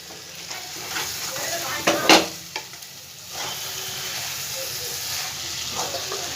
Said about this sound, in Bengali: এবার এর মধ্যে আমি ভাজা আলুগুলো সব দিয়ে দেবো।